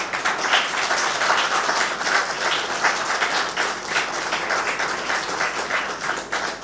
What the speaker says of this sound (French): applaudis très fort